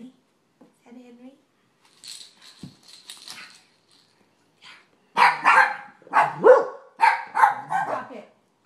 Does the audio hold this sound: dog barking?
yes